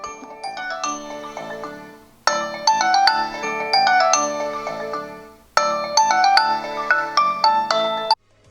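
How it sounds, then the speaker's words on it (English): A bright electronic ringtone melody from a Tile Pro tracker, chiming bell-like notes playing loud and close, repeating in three phrases with short gaps between. "double click the tile and it will play a ringtone"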